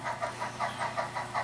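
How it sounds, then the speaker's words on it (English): An HO scale model train engine runs on a Great Northern layout, giving a soft, steady, rhythmic chuffing hum with regular pulses about every fifth of a second, faint and alone. "the engine reappears out the tunnel"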